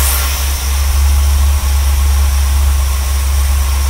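A 1976 Chevrolet Corvette C3, revived after sitting unused since 2004, idles with a loud, steady low rumble that stays even and close for the whole stretch, with no talking.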